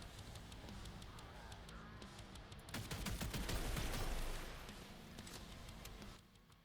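Rapid machine gun fire in an indie video game, fast evenly spaced shots in a long burst that swells in the middle, heard faintly under game noise.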